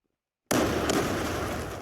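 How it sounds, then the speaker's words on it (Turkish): A bomb blast from a tactical shooter game bursts in abruptly after silence, a loud crackling explosion whose roar stays dense and only slowly fades over the following second. "bomba bomba bomba şurada patlıyor"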